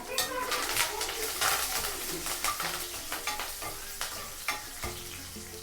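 Garlic frying in a pan with curry leaves and chillies while making pepper rasam, a soft steady sizzle broken by frequent spatula scrapes and taps, with faint bird calls in the background.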